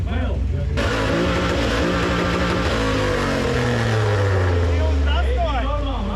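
A car engine revs hard and climbs in pitch, then winds down, loud and close throughout, at a retro car event in Grobiņa.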